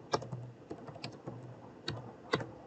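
Sparse keypresses on a computer keyboard while a terminal command is entered, a few distinct clicks spread out with pauses between them, close and clear, with no talking.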